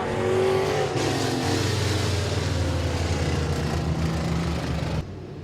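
Modified race cars roar around Midvale Speedway during a Summit Racing Economy Modified Division heat race, a loud, continuous pack of engines revving and droning close by before cutting off abruptly near the end.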